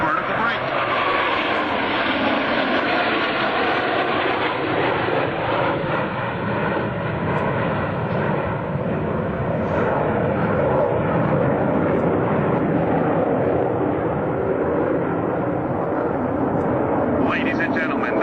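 US Navy Blue Angels jets flying the vertical break maneuver at the 2003 Dayton airshow, a loud continuous jet engine roar that fills the whole stretch, with announcer speech blended into the din.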